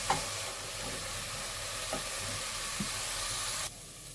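Onion with grated ginger and four or five cloves of garlic sautéing in a pan for doi katla, a steady close sizzle broken by a few scraping stirs before the frying sound drops off abruptly.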